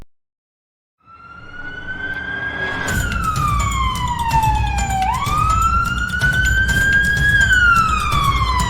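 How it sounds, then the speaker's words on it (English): A video game police siren wails steadily, its pitch sweeping down and back up, loud and close over a constant engine rumble, with no talking. "Time to turn on the siren and flashing strobe lights"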